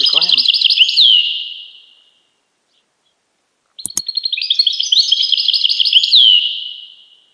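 European goldfinch singing in California, bright rapid twittering phrases close and loud, broken by a pause of about two seconds before the song resumes.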